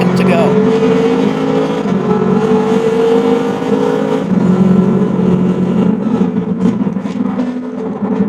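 Gr.3 race cars in Gran Turismo at Daytona's road course drive in a line during practice, a loud sustained engine drone with steady pitch that shifts partway through, continuous and close.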